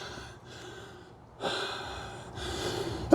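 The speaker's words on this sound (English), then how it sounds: "I'll let you hear my breathing" Heavy, labored breathing from a 66-year-old man rucking with a loaded pack up a steep hill during high-intensity intervals, with loud rhythmic gasping exhales close to the mic, coming in surges and ending in a sharp snort.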